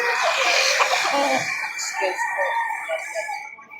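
A stag rooster crows at a busy livestock market in Victoria, Laguna: one loud, drawn-out crow up close, then clucking and market chatter from people nearby.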